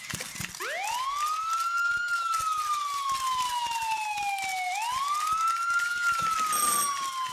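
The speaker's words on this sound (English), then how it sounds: "I think it's an American police siren." A loud wailing American police siren sweeps up, falls slowly, then rises again in a long continuous cycle, close by with steady background noise.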